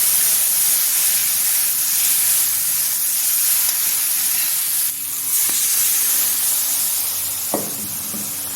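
Water poured into a pressure cooker holding boiled dal gives a steady, loud hiss that lasts throughout, with a few faint clicks and knocks.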